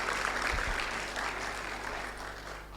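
A church congregation applauds, a soft, steady patter of many hands that fades gently toward the end, with a low hum underneath.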